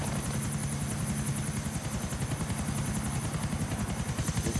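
Helicopter in the video game GTA IV: The Lost and Damned, a loud steady rotor thump with rhythmic chopping blades and a high whine running continuously, close and alone.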